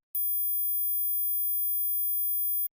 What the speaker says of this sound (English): If you hear this high frequency sound, like the video and leave a comment.